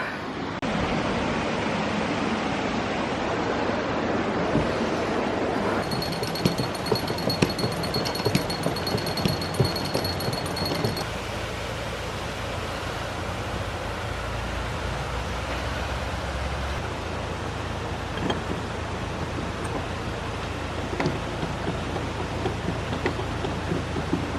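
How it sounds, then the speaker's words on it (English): Water rushes out of a leaky canal lock as it is emptied, a loud, steady roaring wash of noise, with a fainter, softer churning stretch later on and no talk. "now I'm emptying the lock"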